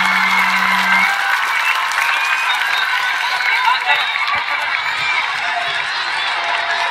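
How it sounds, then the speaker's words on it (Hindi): A crowd at a school annual function claps loudly in sustained applause, a thick wash of hands that carries on for several seconds, with a brief tone at the start and murmuring voices mixed in. "जोरदार तालियां।"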